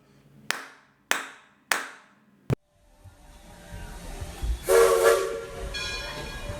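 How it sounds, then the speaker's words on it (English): A train sound effect marking departure from a station, opening with four sharp percussive hits followed by a rising rumble and a loud horn-like tonal blast, then steady rolling noise fading on. "The train is now leaving the interpretation station."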